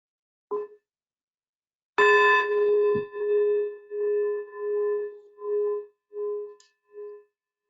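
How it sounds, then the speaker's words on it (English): A meditation bell is struck twice, a brief soft tap and then a clear ringing strike whose bright tone hums and pulses slowly as it fades away over several seconds in a quiet room. "We'll begin and end with the bell"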